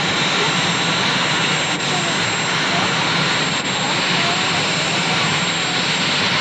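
A loud, continuous helicopter engine roar with a whining drone fills the air steadily, close by, with no break in the noise, as Marine One arrives and lands.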